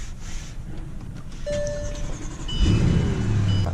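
Bentley Flying Spur luxury car engine starting with a short starter whine, then the engine catching and settling into a loud, steady low idle close by.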